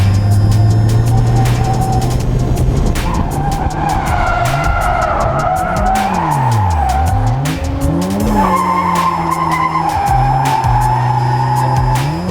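A budget drift car on a track slides with tires squealing loudly and continuously while the engine revs rise and fall in sweeping pitches, close and without talk.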